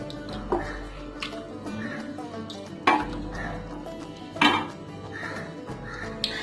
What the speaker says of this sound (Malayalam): ഇനി നന്നായിട്ട് മിക്സ് ചെയ്യണം.